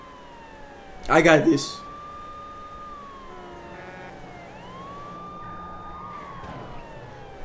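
A police car siren wailing in the video game True Crime: New York City, rising and falling tones sweeping steadily through traffic noise, while someone talks briefly over it near the start.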